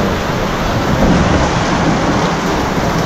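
Dense, loud rainfall hisses continuously, with a deep rumbling swell partway through suggesting distant thunder.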